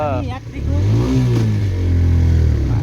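A motorbike engine revs loudly and steadily on a road trip toward Hetauda, a low sustained drone that holds for the whole span, with people talking over it.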